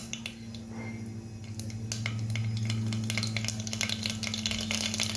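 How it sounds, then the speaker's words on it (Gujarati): Mustard seeds fry in about three spoons of hot oil, giving a rising sizzle with dense, sharp pops and crackles that grow busier and louder over several seconds, with no one talking. "એના માટે મેં 3 પડી તેલ લઈ લીધું. એમાં રાઈ એડ કરીએ."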